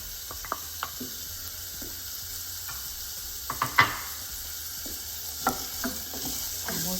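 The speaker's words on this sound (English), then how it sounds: "And we'll just fry them" Chopped onion and about half a cup of carrot fry in oil in a pan, a soft, quiet sizzle with scattered light clicks and stirring taps throughout.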